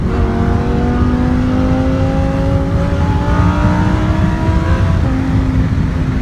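A car accelerates steadily while merging onto a freeway, its automatic transmission carrying a loud, continuous engine drone with rising harmonic tones that climb and hold throughout, close and without any talking.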